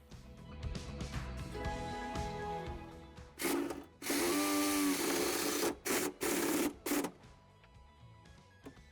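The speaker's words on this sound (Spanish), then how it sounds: "Con la ayuda de un tornillo autorroscante vamos a colocar la masa." A power driver sinks a self-tapping screw into the metal body of a 2021 Dacia Jogger. It gives a short whirring burst, then a longer loud grinding run, followed by several brief stop-start pulses, with no talking.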